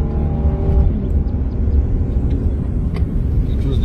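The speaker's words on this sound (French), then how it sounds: "sonorité du moteur Atmo" A Hyundai Genesis with a naturally aspirated engine hums steadily while driving, a low continuous drone with a faint rising tone early on and scattered light clicks and road noise.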